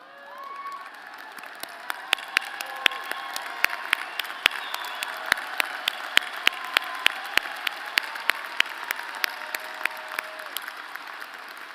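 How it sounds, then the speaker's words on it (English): A graduation audience at a fall commencement claps steadily, with many sharp individual claps standing out over a continuous crowd roar that builds after a quiet start and keeps going to the end. "a round of applause for all of our graduates"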